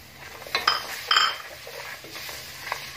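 Green chillies and curry leaves stirred into roasted gram flour in a pan for tomato kadhi, heard as a few light metallic clinks and scrapes of a spoon against the pan, close by and without talk.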